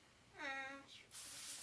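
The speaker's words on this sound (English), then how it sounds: "That's a pretty strong spray there." A garden hose sprays water in a home garden, starting as a steady, fairly loud hiss about a second in, right after a short burst of a voice.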